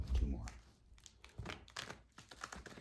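Soft papery riffling and tapping of tarot cards being shuffled, a continuous rustle with small clicks, while someone talks over it.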